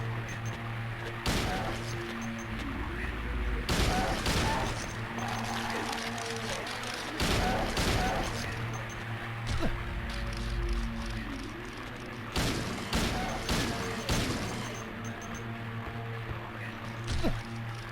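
Gunshots fired in the video game Silent Hill 2, with about seven sharp, loud blasts at irregular intervals over a low, steady ambient drone.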